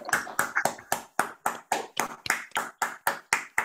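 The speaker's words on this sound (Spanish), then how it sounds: "si podéis encenderlo y oímos ese aplauso colectivo para esta compañera" Participants in an online meeting clap through their microphones, about a dozen sharp, evenly spaced claps in a steady rhythm, close and clear with no talk.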